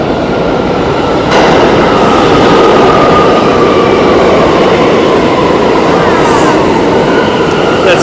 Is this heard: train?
yes